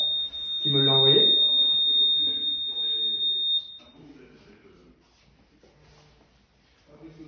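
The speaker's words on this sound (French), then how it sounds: "mon téléphone qui sonne là, c'est des alarmes" Phone alarm sounding for a gas release alert from a high-voltage monitoring module, a steady piercing electronic tone with a short buzzing burst, close, while someone talks over it and continues after the tone stops.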